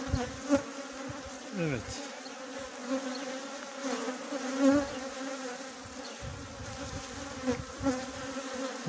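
Honey bees drone steadily around an opened hive during a second-storey box inspection, a dense continuous buzz close by with a few louder passes, and a brief spoken word partway through.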